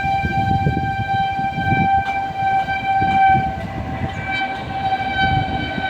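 A train passes through open countryside near mango trees, its steady rumbling wagons filling the whole stretch, with a sustained horn tone running throughout and a breezy outdoor hiss underneath.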